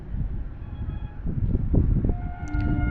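A goods train rolling past, close and loud, with a rumbling low clatter of wagons and faint tonal squeals, no talk.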